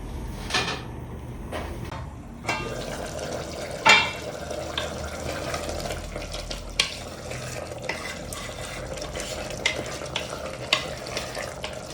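Mushroom biryani ingredients sizzle in hot oil while a utensil scrapes and stirs the pan repeatedly, with occasional clatters.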